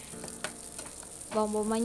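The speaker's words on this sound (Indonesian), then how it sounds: "Dan aku aduk-aduk sampai mendidih, dan masukin bawang bombaynya" Onions added to a boiling pot of sugar and water and stirred, with soft sizzling and bubbling, light scraping of the stirring, and a brief rise in bubbling noise near the end.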